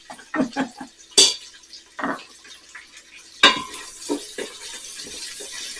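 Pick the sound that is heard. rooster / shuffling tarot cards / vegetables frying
vegetables frying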